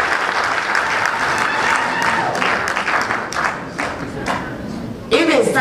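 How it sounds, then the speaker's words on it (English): An audience applauds at a cash grant event for vulnerable residents, a steady roar of many hands clapping that holds throughout and swells near the end. "Let's clap for him first before I ask what happened."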